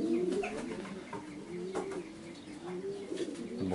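Breeding racing pigeons coo in soft, repeated rolling calls, fairly close, with faint chirps and rustling around them.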